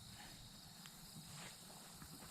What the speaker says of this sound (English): birds, crickets, all kinds of other insects